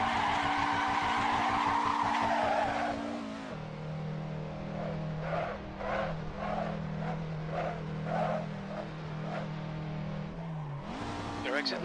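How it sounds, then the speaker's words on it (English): Tires skidding from rear brake locking on a race car in a racing video game at the Australian Grand Prix, a loud squeal over engine drone, then a wavering series of chirping skids as the car slows and revs again. "We're seeing lots of rear brake locking"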